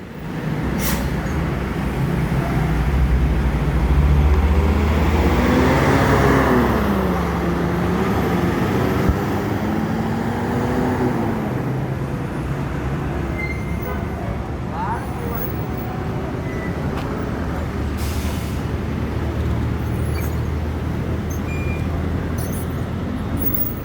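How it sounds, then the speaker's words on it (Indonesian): Sumbar bus pulling in as the tenth vehicle of a loaded convoy, a steady loud engine drone and road rumble filling the whole stretch with rising and falling tonal whine, voices talking over it. "Yang ke-10, bus Sumbar masuk."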